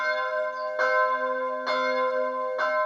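Church bells of the centuries-old St. Jacob's Church in Herxheim am Berg ringing the midday call, three clear, resonant strikes about a second apart, each leaving a long humming tone that carries into the next.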